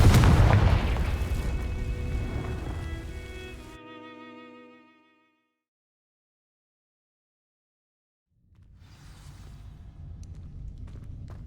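A Confringo fire spell blasts dry vines in Hogwarts Legacy: a loud booming burst with a crackling, ringing tail fades out over a few seconds, followed by silence and then a low rumbling swell of ambience.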